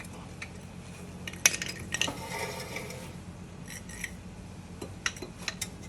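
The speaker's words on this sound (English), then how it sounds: "That's my backing plate rubbing on the rotor." Metallic scraping and rubbing from the front brake backing plate of a 2017 Subaru Crosstrek touching the rotor, with light clinks and scrapes over about six seconds, fairly faint and steady with a few sharper ticks.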